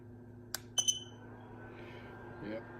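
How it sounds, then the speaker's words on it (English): The temperature controller of a through-hole soldering machine's iron head beeps on reaching its 250-degree target: a few short, sharp electronic beeps in quick succession over a steady background hum. "you will hear a beep when it reaches temperature"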